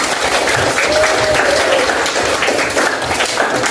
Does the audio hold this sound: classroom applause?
yes